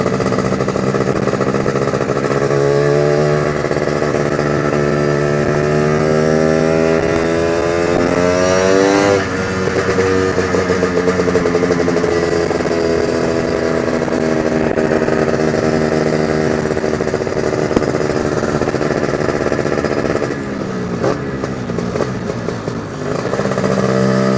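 Motorcycle fitted with a Casa Performance Sledgehammer exhaust riding at low speed, a loud close engine drone that rises and falls in pitch as it revs and shifts, running the whole time.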